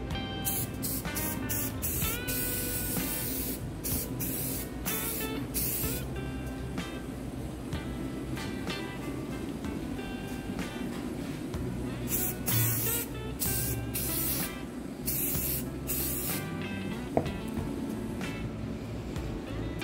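Old furniture is spray painted in repeated short hissing bursts from a spray can, with brief pauses between squirts over a steady low background.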